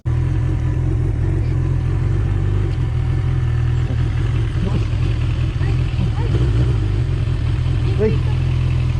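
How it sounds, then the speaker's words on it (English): A motorcycle engine rumbles loudly and steadily up close, with a couple of brief revs swelling near the end. "gave him the honor of revving it one time"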